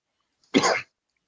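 A single sharp sneeze bursts out close by, short and forceful, with silence before and after.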